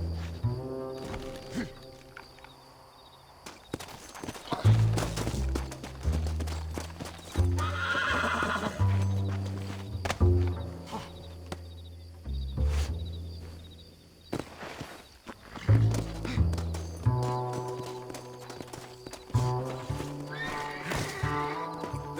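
A horse in Red Dead Redemption trotting and galloping with rhythmic hoof clip-clops, breaking into several loud neighs and whinnies between stretches of hoofbeats, close and clear.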